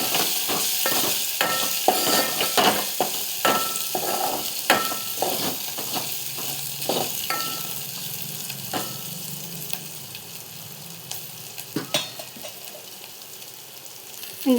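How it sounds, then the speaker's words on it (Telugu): Curry leaves and ginger-garlic paste sizzle and fry in a pan for a ridge gourd curry, with repeated scraping stirs at first, then a steady crackling hiss with occasional utensil taps. "వేసుకొని ఒకసారి బాగా మిక్స్ చేసుకోవాలి."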